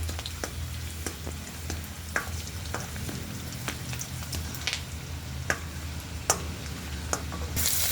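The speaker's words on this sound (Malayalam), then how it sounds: "ഇഞ്ചി കണ്ടിട്ട് നല്ല മൂക്കട്ടെ, ഇഞ്ചി നല്ല മൂക്കണം." Ginger and curry leaves frying in oil in a pan, a soft, steady sizzle broken by sharp pops and crackles, with a spoon scraping now and then.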